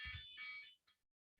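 A program-generated urgent alarm tone, a loud bright buzzing beep held for most of a second, followed by two short fainter beep bursts after a gap.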